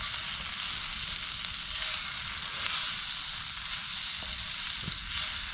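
Food sizzling in an Overmont cast iron pan during outdoor camp cooking, a steady close hiss with faint crackles and a single small clink near the end.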